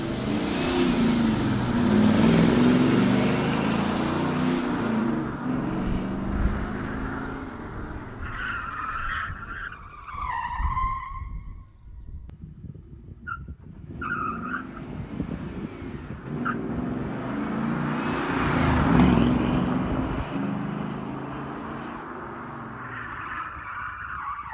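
A project car being driven down a test track during engineering testing: continuous loud engine roar with revving and tire skidding, rising and falling as the car accelerates and passes, with no talk.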